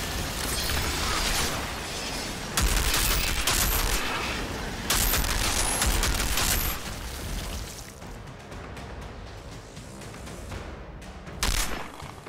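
Explosive gunfire and blasts from mortar fire in the Outriders video game, with dense repeated bursts and booms filling the scene, loud and close, easing somewhat toward the end before a final sharp burst.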